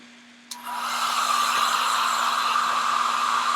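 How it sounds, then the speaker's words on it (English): A blow dryer on a cool setting clicks on and then blows a steady, close, loud rushing airstream that holds evenly to the end. "I'm going to grab my blow dryer."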